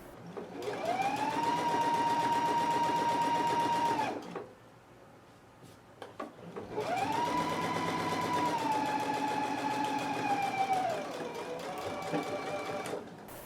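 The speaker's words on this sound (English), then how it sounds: "I'm going to stitch the pocket down at a 1/4 inch seam allowance." A sewing machine stitches a skirt pocket down at a quarter-inch seam, running in two long steady bursts of about four and six seconds separated by a brief pause, close and clear with no talking.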